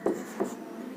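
Chalk or marker writing on a classroom board during a biology lesson, two short scratchy strokes close by, then a quiet room tone.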